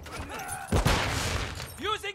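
Shotgun fire in Call of Duty: Modern Warfare II, one loud blast with ringing tail mid-clip amid gameplay noise, with people talking before and after.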